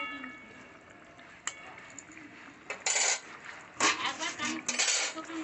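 A lid is set on a pan of simmering hilsa fish curry, giving a few sharp metallic clanks and rattles near the end over a quiet bubbling background, with no talk.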